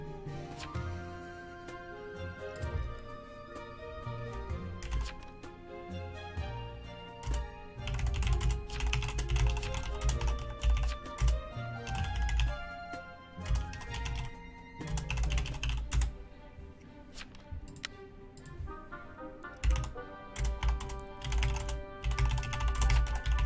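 A computer keyboard is typed on during an online game, giving a quick, steady clatter of sharp key clicks over a continuous tonal background sound.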